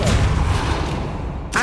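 Spell effects burst in Hogwarts Legacy on PS5, a dense, loud rumbling blast of magic that holds for over a second, with a new whooshing cast starting at the end.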